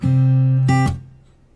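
The first two guitar strings ring out, a second strike follows, then the notes are muted by the fingers, cut short and fading quickly into quiet.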